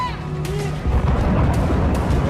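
Explosions in Kyiv during the Russia-Ukraine war thunder as deep, heavy booms in news footage, rolling low rumbles following a tonal hum, loud and reverberant with sharp cracks overhead.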